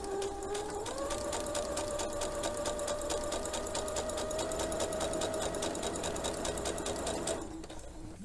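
A sewing machine backstitching along a crotch seam runs steadily and close up for about seven seconds, its rapid needle rhythm and motor whine continuous before easing off at the end.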